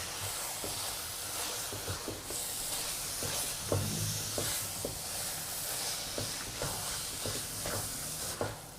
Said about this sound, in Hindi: अब हम फ्लेम को लो कर देंगे और लो फ्लेम पर 4 से 5 मिनट इसकी भुनाई करेंगे।